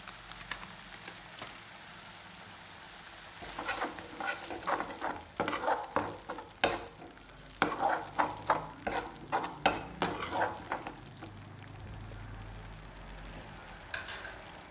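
Masala with a spoonful of coriander powder being fried and stirred in a pan for a Chhattisgarhi kundru and egg curry, with bursts of scraping and sizzle mid-clip between quieter stretches.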